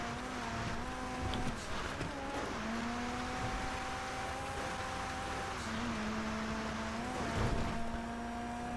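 Sand King off-road trucks in GTA V Online drive with a steady, droning engine roar whose pitch rises and dips as they move, loud and continuous throughout.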